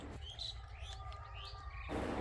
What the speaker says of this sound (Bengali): চারিদিকে প্রচুর পাখি ডাকছে।